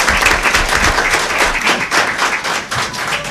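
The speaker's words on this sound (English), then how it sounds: "let's give the board a round of applause for their courage and work" A room full of people at a county board of education meeting breaks into steady applause for the school board, dense overlapping claps filling the space at an even level with no voices on top.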